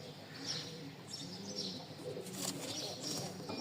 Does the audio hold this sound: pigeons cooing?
yes